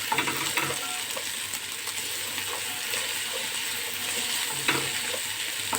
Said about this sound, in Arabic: وشوحها كويس مع الثومه والبصله والبهارات والفول كله يتفاعل مع بعض